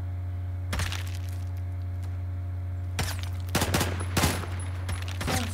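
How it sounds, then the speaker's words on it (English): Gunfire in a shooter video game, with sharp bursts of shots cracking out at intervals over a steady low hum, one burst early and a cluster of louder volleys toward the end. "Someone's shooting."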